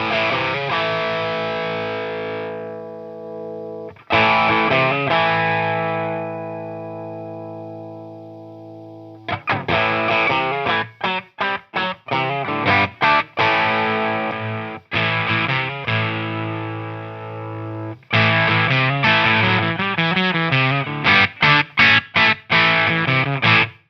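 Electric guitar through overdrive and distortion, ringing sustained chords that decay, then a run of choppy, palm-muted strummed chords in quick rhythmic bursts, loud and close with no talking.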